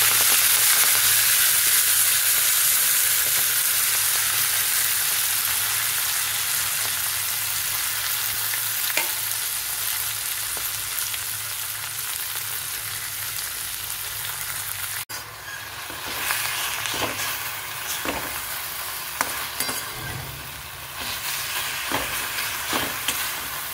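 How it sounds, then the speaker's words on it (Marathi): Fresh fenugreek leaves sizzle and fry in a pan with garlic and asafoetida. A steady, dense hiss runs throughout, and in the second half it is broken by clustered scraping stir strokes. No one speaks. "आता त्याच्यामध्ये मेथीची भाजी टाकते।"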